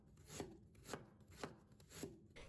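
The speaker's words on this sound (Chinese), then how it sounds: "改刀切成薄片。" A knife chops peeled ginger into thin slices on a board, four evenly spaced crisp cuts about half a second apart, close and clear with no talking.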